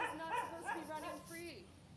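A dog on a leash gives a series of yipping barks and whimpers at a doorstep, mid-distance, overlapping with an argument between people.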